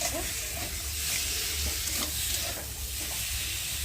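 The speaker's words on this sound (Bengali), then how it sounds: "আর এখন ঝোলের জন্যে ভালো করে সবজিটাকে কষিয়ে নিচ্ছি" Vegetables for a fish curry sauté in a pan, with potato and pointed gourd frying, giving a steady close sizzle and hiss with occasional stirring scrapes and no voices.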